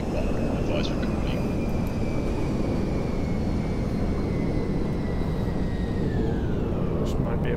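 Fixed-wing aircraft landing on a runway in GTA5, a steady, loud broadband engine and wind roar held throughout with a faint high whine sliding slowly downward as it comes in, while a voice talks over it.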